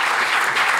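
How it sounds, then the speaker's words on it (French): An audience applauds, a brief dense wash of clapping from many hands, steady and loud throughout. "Merci pour vos applaudissements pour la boutique"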